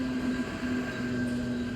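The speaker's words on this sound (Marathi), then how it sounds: "पश्चिम रेल्वेची AC लोकल का पूर्ण पॅक आहे." Inside a Western Railway AC local train, a steady low rumble runs under a tonal electric whine that pulses on and off, quiet and enclosed.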